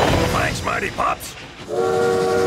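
Cartoon train rolling past in a PAW Patrol rescue scene over broken tracks, with bright horn-like whistle tones rising near the end over a rumbling, busy background, heard alone without talk.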